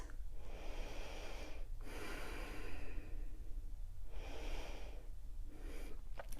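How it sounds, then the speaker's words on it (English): Slow, deep breaths during a chair yoga session for beginners and seniors, long airy inhales and exhales rising and falling in broad swells, close and steady with no talking. "Just breathe here."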